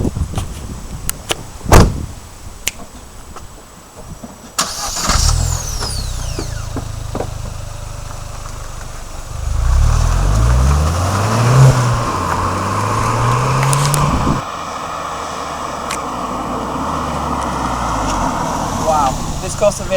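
A Vauxhall Corsa VXR Nürburgring Edition gets a couple of sharp car-door thuds, then its engine starts and revs in rising and falling sweeps close by before settling into a steady run, with a voice heard early on.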